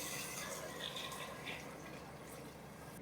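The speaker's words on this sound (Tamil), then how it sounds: "ஃபஸ்ட்டு தண்ணியை ஊற்றிப்போம்." Water poured into a cooking pot for coconut milk pulao trickles and splashes faintly but steadily for a few seconds, with a soft airy hiss and no talking.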